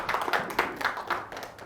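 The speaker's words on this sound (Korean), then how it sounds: "자, 지금 오신 분과 여러분을 위해 다시 한번 박수 한번 쳐주십시오." Audience clapping at a Korean lecture on saju myeongri for newcomers, a scattered run of handclaps with a few sharper accents, fairly close and steady, no talk over it.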